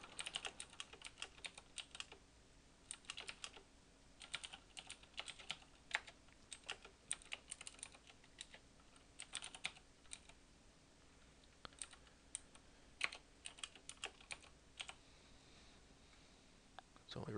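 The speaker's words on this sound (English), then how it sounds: "let's just type it out here" Quiet keystrokes on a computer keyboard come in irregular bursts of clicks, close and steady throughout, with a faint low hum underneath and no talking.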